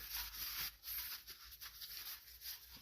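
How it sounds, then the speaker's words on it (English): Rag wiping oil off the valve cover area of a Cub Cadet LT1045 20-horsepower riding lawn mower engine: quiet, close rhythmic rubbing strokes in short bursts. "So go ahead and wipe all that down, even inside your valve cover."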